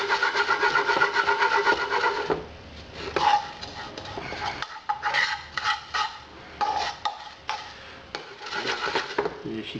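Coconut toasting in a pot for a white chocolate coconut tropical IPA is scraped and stirred with repeated dry, rhythmic rasping strokes, close and fairly loud, with short pauses between bursts.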